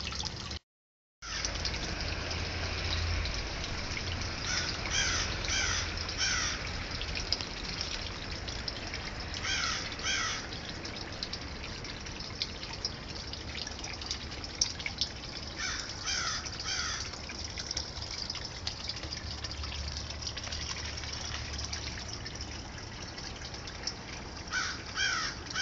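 Crows cawing in repeated short bursts, agitated by an owl sitting in a nearby tree, over a constant hiss of outdoor background noise, the calls moderately distant and recurring throughout.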